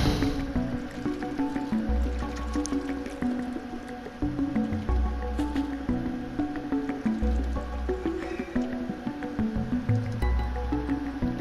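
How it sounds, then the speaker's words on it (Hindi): Cat lapping water in the video game Stray, soft repeated wet drips and splashes under steady game music with low bass pulses. "चलो पानी पी लेते थोड़ा।"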